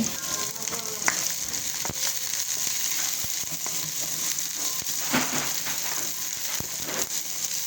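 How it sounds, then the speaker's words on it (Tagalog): Ginger and onion sauté in hot oil with a continuous close sizzle, broken by repeated clacks and scrapes of a spatula stirring in the pan. "Ngayon naman po ilagay na natin ang luya. Gisa-gisa lang po natin yan"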